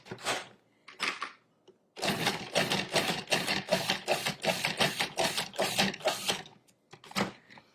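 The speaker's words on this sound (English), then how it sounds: "we're going to add our tomatoes, which were seeded, and the pulp the interior was taken out, the seeds. And we're going to pulse that until it's finely chopped." Cuisinart 14-cup food processor pulsing seeded tomatoes: a rapid series of short, loud whirring bursts with brief gaps, close up, following two quick separate pulses and ending with a final short burst.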